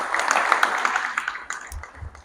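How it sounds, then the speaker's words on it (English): A crowd applauds for Queen Aisha Sise at a launch event, with a dense, steady wash of clapping that gradually thins toward the end. "Ladies and gentlemen, please a round of applause to Queen Aisha Sise"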